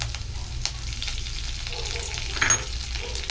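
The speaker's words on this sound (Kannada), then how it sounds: "ಸ್ವಲ್ಪ ಚೆನ್ನಾಗಿ ಫ್ರೈ ಮಾಡ್ಕೊಳ್ಳಿ" Urad dal and curry leaves fry in hot oil in a pan, a close continuous sizzle with light stirring scrapes and a brief louder crackle near the end, no one talking.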